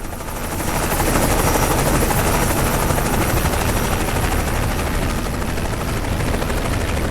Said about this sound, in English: The helicopter sound is via the sound mod